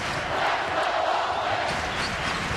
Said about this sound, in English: Crowd starting to raise the volume here